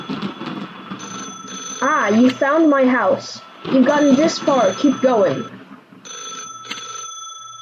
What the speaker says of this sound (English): I'm like calling the phone here.